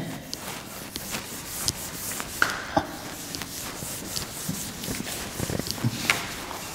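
A board is rubbed clean by hand in a classroom, giving soft scattered scrubbing and knocking strokes at close range, fairly quiet and irregular, with no talking.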